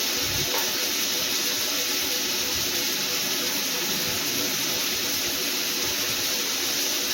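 Tomatoes soften in hot oil in a pan while a South Indian chutney for dosa is being cooked. A steady, loud, even sizzle and hiss holds unbroken throughout and is heard alone.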